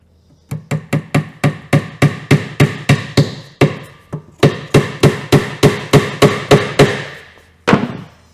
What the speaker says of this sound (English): We're going to put this last one down with a staple.